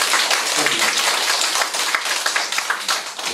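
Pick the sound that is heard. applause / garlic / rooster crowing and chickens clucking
applause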